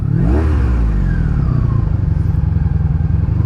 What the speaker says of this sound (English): There's just a low rev and rumble